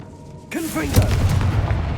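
A Confringo fire-blast spell in Hogwarts Legacy bursts in suddenly after a quiet moment, a whooshing boom followed by crackling, rumbling fire that keeps roaring loudly, with a voice briefly audible.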